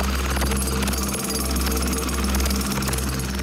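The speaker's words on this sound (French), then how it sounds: "gendarmes commencent à attaquer la dalle de béton au marteau-piqueur" Jackhammers pound a concrete slab at night, a loud, continuous dense rattle of rapid impacts with a steady low drone underneath, close and unbroken throughout.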